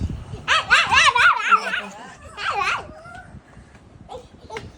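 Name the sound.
puppy barking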